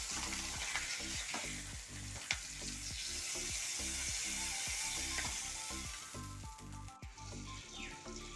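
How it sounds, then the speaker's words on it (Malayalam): Fish frying in hot oil with a steady, close sizzle throughout, punctuated by rhythmic scraping and stirring strokes in the pan and a sharp clatter near the end. "അടുത്ത മീനും ഫ്രൈ ആയിട്ടുണ്ട്"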